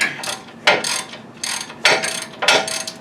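A socket ratchet clicks in quick bursts as it tightens a ball joint nut on the upper control arm of a fourth-generation Toyota 4Runner, with four or five close, rapid runs of clicking.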